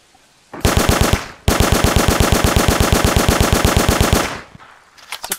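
Sustained automatic gunfire in the video game Vanguard: Normandy 1944, a close, loud rapid burst broken by a brief pause, then a long continuous stream of shots that trails off, with a few scattered shots at the end.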